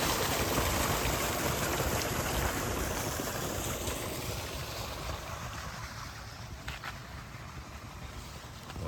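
Water from a motor pipe flowing through a channel into a sesame field on a village farm: a continuous rushing gush, loud at first and gradually easing, with a faint click near the end.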